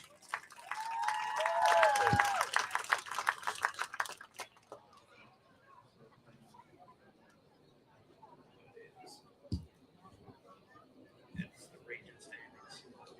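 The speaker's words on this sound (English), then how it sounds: "Let's give one more big round of applause for RHS Pom and Cheer seniors." Crowd at a high school football game applauds and cheers loudly for a few seconds, then the clapping fades into a quiet stadium with scattered sounds and a voice heard briefly.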